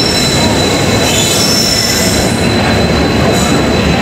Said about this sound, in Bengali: পেছনে আর একটা এক্সপ্রেস ট্রেন বেরিয়ে যাচ্ছে।